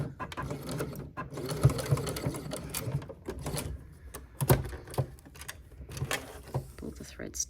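Sewing machine stitching back and forth across a clear vinyl phone pouch strap, rapid mechanical clatter in bursts with brief pauses, near and fairly quiet.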